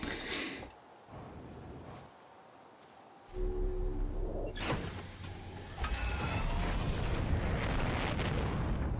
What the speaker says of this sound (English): There's an exploding sun in the background.